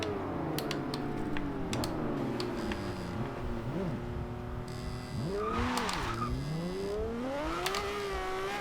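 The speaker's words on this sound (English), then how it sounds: "A little bit of wheel spin there on the launch" A 2010 Aston Martin One-77 in Forza Horizon 2 spins its wheels on launch, with a loud, steady engine drone rising through gear changes and tire squeal, and a few sharp clicks on top.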